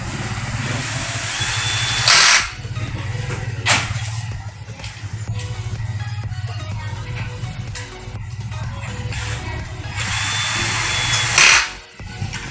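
A power drill drives a screw back into an aluminum slide-up window frame, several loud whirring bursts of a second or two each, the longest near the end, with a steady hum and faint handling noise between.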